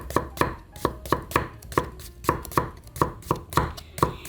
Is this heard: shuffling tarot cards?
no